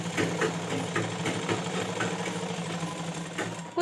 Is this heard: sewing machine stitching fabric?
yes